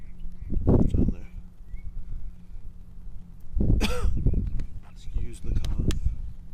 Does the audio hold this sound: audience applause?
no